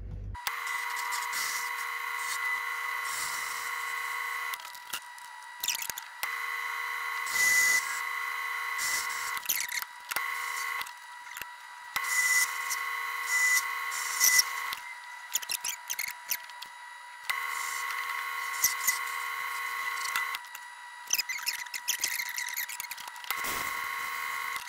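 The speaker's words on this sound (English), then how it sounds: "I need to turn down a mandrel on here to 191 thou. And then I need to drill and tap it." Metal lathe turning and drilling a 3/8 inch mild steel mandrel, a steady high machining whine with sustained tones, stopping and restarting in several separate runs with brief quiet gaps between passes.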